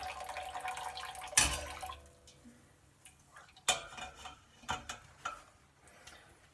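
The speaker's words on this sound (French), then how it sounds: "On égoutte bien le sac." A grain bag being drained while a beer kit is brewed, with soft drips and trickles of liquid, occasional clanks of a pot and utensils, and quiet handling noises heard close up.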